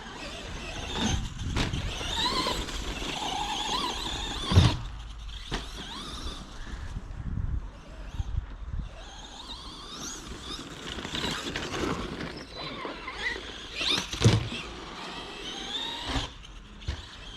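A Robitronic Stempede 2WD brushless RC car drives nearby, its electric motor whining up and down in pitch as the throttle changes, with scattered knocks and bumps from the terrain.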